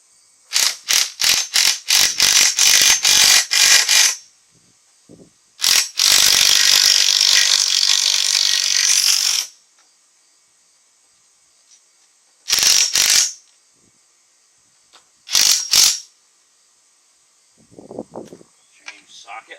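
Ratchet socket wrench clicking in rapid bursts while a farmhouse front-step railing is worked on, loud and close, with long continuous ratcheting runs separated by pauses.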